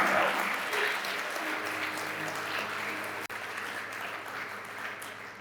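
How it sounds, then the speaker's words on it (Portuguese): A church congregation applauding during an evening service, a sustained, full wash of crowd clapping that holds steady and tapers slightly toward the end. "Então aplaude o Senhor essa noite."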